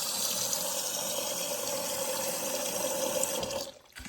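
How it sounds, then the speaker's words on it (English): Water pours steadily into a container of Orbeez water beads, a continuous splashing rush held at one level for several seconds before it stops abruptly near the end, with no talking. "I'm gonna add some more water into these."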